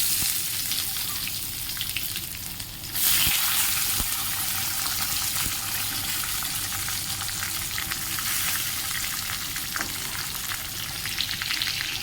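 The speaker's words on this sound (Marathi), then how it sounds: "कढई गरम झाली, थोडासा तेजपत्ता कढीपत्ता आणि जिरं टाकले. आता कांदे टाकून घेऊया" Chopped onions hit hot oil in a kadhai already holding bay leaf, curry leaves and cumin, setting off a loud, continuous sizzle that swells suddenly and keeps crackling steadily with occasional stirring.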